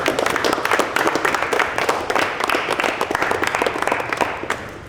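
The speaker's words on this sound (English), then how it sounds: "give a real quick round of applause for Skylar and for Andy" A crowd claps together, a dense patter of many hands that stays steady for several seconds before tapering slightly.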